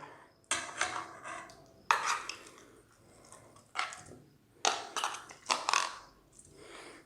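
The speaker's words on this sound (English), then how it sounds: "And then we just kind of mix everything together." Dog treat ingredients being mixed together in a bowl, a series of close clattering scrapes and knocks of a utensil against the dish in irregular bursts, with no talk.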